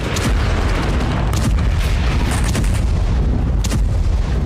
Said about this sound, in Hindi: अमेरिकी गाइडेड बम के सटीक निशाने से यूक्रेन ने पूरी इमारत को उड़ा दिया।